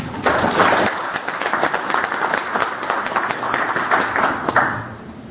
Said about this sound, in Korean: 두 분의 오늘 설명을 고맙게 생각하면서 큰 박수로 환영해 주십시오